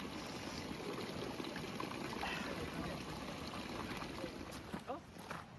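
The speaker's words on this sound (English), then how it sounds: "And we see the water flowing quite decently down here, over Cement Bridge, all the way down." Water in a stream below a waterfall in the Banhoek nature reserve near Stellenbosch rushes as a steady, faint wash, with a few brief noises near the end.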